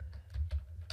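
Typing on a computer keyboard, a few quiet, quick key clicks in an uneven rhythm, close and alone.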